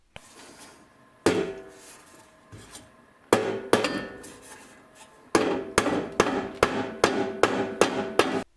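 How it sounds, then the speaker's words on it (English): A rubber mallet taps an exhaust pipe into a MagnaFlow muffler on a 1998 Chevy Blazer. A few spaced, solid knocks come first, then a quicker run of about eight sharp strikes near the end, with no talking. "Finally, with a little help from the rubber mallet, it went in."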